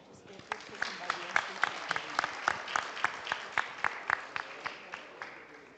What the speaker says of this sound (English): please join me in giving a warm round of applause to our new Executive Director, Julia Abad